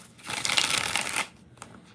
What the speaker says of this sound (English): 4 shuffles for Flo.